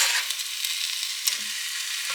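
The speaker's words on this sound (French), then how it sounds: "J'ajoute le tout dans ma casserole" Tomatoes drop into a hot saucepan and sizzle with a bright crackling hiss, with one sharper splash partway through.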